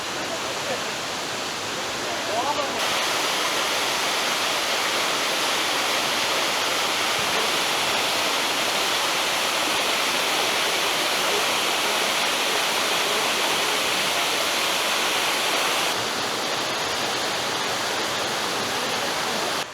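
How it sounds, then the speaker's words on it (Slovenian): A 17-metre waterfall in the Pekel gorge roars in a steady, dense rush of falling water, loud and continuous throughout with no break. "Zdaj pa prihajamo že do prvega resnega slapu."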